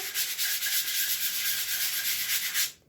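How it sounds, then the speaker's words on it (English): Steady hand sanding on wood veneer, a continuous close, even rasping rub with a gentle back-and-forth pulse, stopping abruptly at the end. "As you're sanding, you want to keep looking where you're going and where you just were. You don't want to sand through the veneer."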